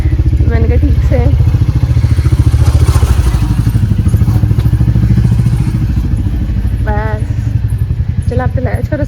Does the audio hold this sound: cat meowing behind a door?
no